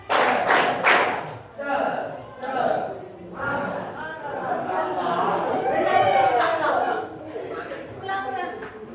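A classroom group of students doing tepuk semangat rhythmic clapping, bursts of claps in short patterns mixed with chatter and voices, some chanting between the clapping sets.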